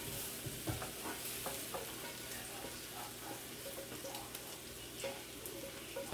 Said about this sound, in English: We're gonna let these onions cook down for a minute.